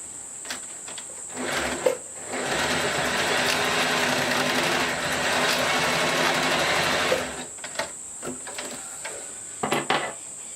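A sewing machine runs a few zigzag lines back and forth on swimsuit fabric, one long steady whir in the middle with shorter starts and stops on either side, close and loud, with no talking.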